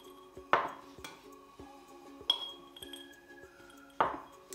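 Glass dessert cups for a cinnamon-star mascarpone Christmas dessert clink against each other as they are filled, with three distinct bright clinks and some softer taps in between, close and clear with no talking.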